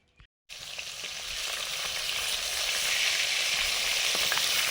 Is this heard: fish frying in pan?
yes